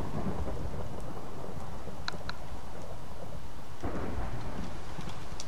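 Thunderstorm with lightning in the Minecraft video game: steady loud rain hiss with rolling thunder and a few sharp crackling strikes, continuous throughout with no talking.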